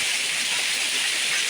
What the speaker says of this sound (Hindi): अभी भी भयंकर वाली बारिश ही हो रही है, गरज के साथ बहुत ही मस्त बारिश हो रही है।